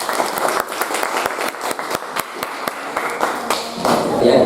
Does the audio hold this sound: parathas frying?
no